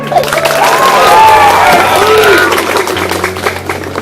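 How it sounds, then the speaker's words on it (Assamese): Children burst into loud, close applause, with a dense flutter of hand claps and a few cheers that swell and then taper off over a few seconds. Some voices can be heard in the crowd. "হাত চাপৰি এটা দিয়া"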